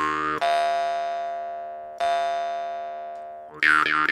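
A Yakut khomus jaw harp twangs with bright, buzzing sustained tones, three plucks ringing and slowly fading, the last with a wah-like shifting overtone, no voices.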